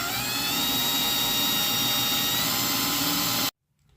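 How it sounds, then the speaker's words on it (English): A small drill bit boring through aluminum makes a constant, dense, high-pitched whine at close range for about three and a half seconds, then it stops abruptly into near silence. "You're going to drill this all the way through."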